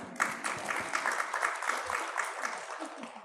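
Audience at a Lithuanian-Ukrainian forum breaking into applause, a dense patter of clapping from a sizeable hall that holds steady for a few seconds.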